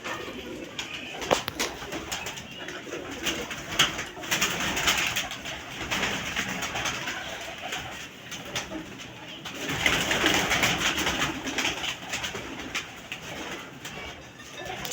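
Old pigeons kept by a breeder in a loft, cooing repeatedly in soft, throaty rolling calls at close range, several birds overlapping continuously with faint background voices.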